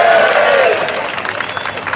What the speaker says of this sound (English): Let's give them an encouraging cheer too